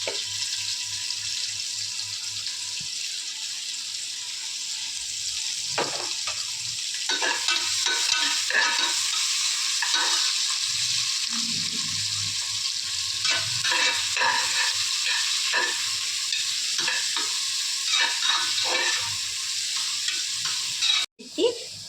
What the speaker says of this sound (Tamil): இப்போ வெங்காயத்தை எடுத்து போடணும் வெங்காயம் நல்லா வதங்கணும்